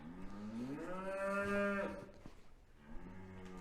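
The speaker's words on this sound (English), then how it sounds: "feed our herd or fold of Highland cattle" Highland cattle steers moo inside a barn during winter feeding: one long, deep, drawn-out moo that swells and fades, then another begins, close and clear with no talking.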